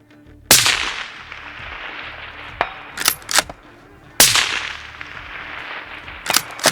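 Rifle shots fired at a target, loud sharp cracks each trailing into a long rolling echo, with smaller clicks and knocks of handling between the shots.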